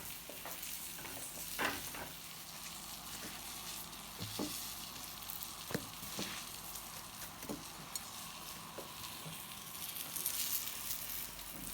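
Aubergine slices quick-frying in oil to crisp up, giving a steady close sizzle with scattered crackles and pops and occasional stirring, with no talk.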